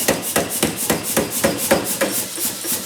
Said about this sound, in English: And then lay it down on the flat, and then just hammer it to squish it down from there